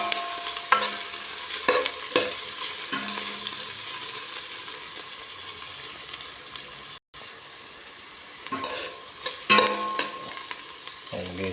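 Squid sautéed with onions in a pan, cooked alongside green bell pepper and carrots: a continuous close sizzle and frying hiss with repeated stirring scrapes, briefly cut off for an instant midway, with no talk.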